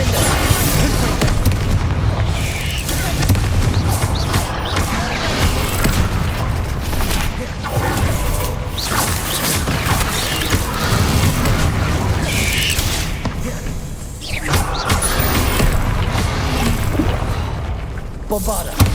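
Spell explosions such as Bombarda and Confringo in the video game Hogwarts Legacy, dense repeated booms and crackling blasts amid busy combat noise, loud and continuous, with game voices calling out over them.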